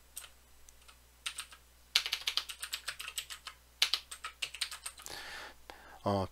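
Fingers type on a computer keyboard in quick bursts of close clicks, with several repeated presses of the delete key, while a person speaks quietly over the tapping.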